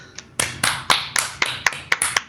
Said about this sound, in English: give Ellie a round of applause